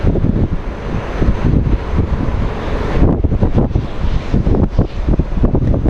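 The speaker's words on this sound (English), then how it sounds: "It is a bit windy." Strong wind blows across an open airport apron ahead of a storm, a loud, steady rumbling roar battering the microphone, with gusty buffeting throughout and no voices.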